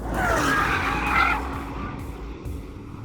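A Porsche Cayenne GTS with a 4-litre twin-turbo V8 making 500 horsepower to all four wheels, driven hard on a race track: loud tyre squeal and engine roar that ease off after about a second and a half into a steadier drone.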